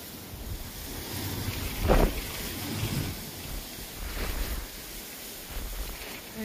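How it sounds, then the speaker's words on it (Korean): A strong, cold wind blows in long roaring gusts across the microphone, swelling and easing continuously, loud and close, with no talk. "이렇게 바람이 불어대니까"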